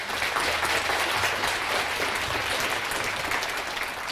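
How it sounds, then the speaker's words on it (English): An audience at a science talk applauds for two people, steady, full clapping from many hands, moderately loud and continuous without pause, with no voices over it. "I think we should give a big round of applause to Neil and Catherine"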